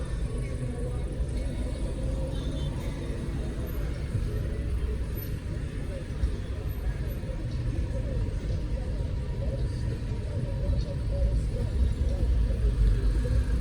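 Busy street traffic in Montego Bay, Jamaica: a steady rumble of cars and engines passing nearby, with occasional revving, running continuously under people talking.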